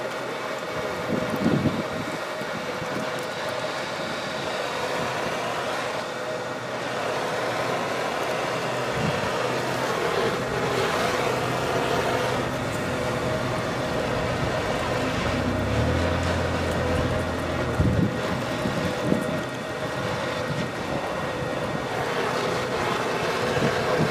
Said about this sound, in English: Yeah, too much wind.